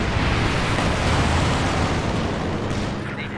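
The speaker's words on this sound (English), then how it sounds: "You're now the Sturmovik strafing run and the P-47 rocket strafe" A Sturmovik and a P-47 make rocket strafing runs in the strategy game Company of Heroes 2, heard as a dense, continuous roar of explosions and rumbling that fades slightly near the end.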